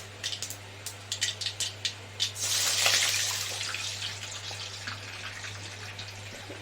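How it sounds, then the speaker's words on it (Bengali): A few light clinks give way to a short, splashy pour of water into ground mustard paste in a bowl, which then fades out; nobody speaks. "এই যে বাটি গেছে দুই বাটি জল দিয়ে দেবো"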